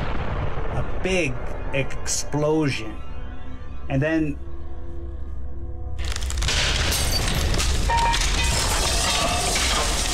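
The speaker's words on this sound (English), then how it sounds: "you hear this, and you feel at the same time you hear a big explosion" An explosion sound effect for a zombie war tabletop game blasts in a wall with a sudden loud, sustained rumbling roar that follows several seconds of voices.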